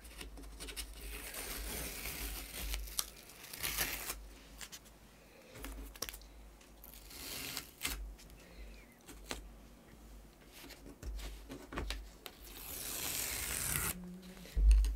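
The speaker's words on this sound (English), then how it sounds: "So now I'm just gonna take off the tape to reveal our nice border." Masking tape peeled off watercolour paper to reveal a painted border: repeated close, scratchy tearing and ripping bursts of varying length, with faint handling noises between pulls.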